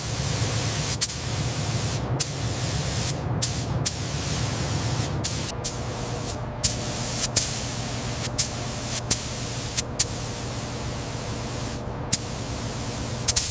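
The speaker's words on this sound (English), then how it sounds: "a coat of industrial anti-rust primer goes on first. The gun lays down a fine fan overlapping every pass to seal the steel rails" Spray gun laying industrial anti-rust primer onto the steel rails, cross members and brackets of a 1970s Freightliner semi truck chassis, a steady hissing mist running continuously with brief breaks between passes.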